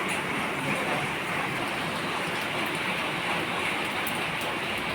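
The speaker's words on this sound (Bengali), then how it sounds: "এখানেও বৃষ্টি পড়েই যাচ্ছে দেখো ভেসে যাচ্ছে চারিদিক জলে জলাকার" Heavy rain falling outdoors amid flooded ground and toppled trees, a dense, steady, loud hiss of downpour with no letup and no voices.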